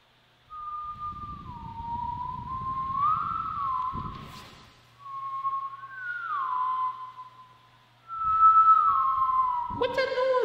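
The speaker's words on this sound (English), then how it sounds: "What's that noise? I don't know. It's a whistle." Three long sliding whistle tones in a zombie video game, each rising and falling in pitch and separated by short gaps, clear and fairly loud, with a sharp burst at the end.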